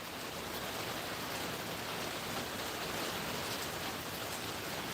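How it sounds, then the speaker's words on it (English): Steady rain falls outside a desert homestead door, a dense, even hiss with no breaks and no voices. "I love the sound of the rain."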